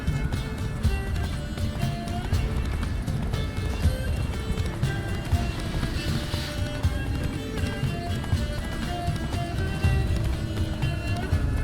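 Rapid hoofbeats pound steadily in a continuous gallop, dense and driving over a rumbling background, with no pauses: a horse galloping in The Witcher 3 video game.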